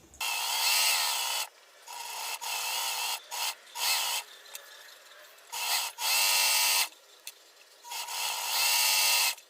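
A sewing machine stitches a hemmed fabric edge for a Tilda rag doll in repeated bursts of mechanical whirring, each a second or two long, separated by brief pauses while the cloth is repositioned, close and alone.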